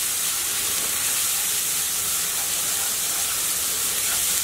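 Ground coriander, cumin and other spices sauté in a pan for a Bengali aair fish curry, giving a loud, continuous close hiss of sizzling with no breaks or voices.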